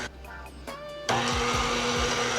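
Electric stand mixer on setting 4 beating sugar cookie dough, starting abruptly after a quiet moment and holding a steady, loud whirring drone with a low rhythmic thump from the beaters.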